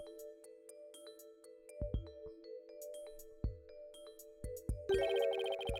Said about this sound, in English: The sound of bells changes to the sound of water at one point.